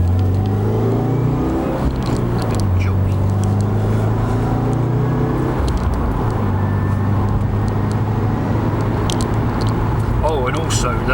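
A 2016 Subaru WRX driving on a main road, its engine droning steadily from inside the cabin with rising and falling pitch as it accelerates and shifts, while someone talks over the engine.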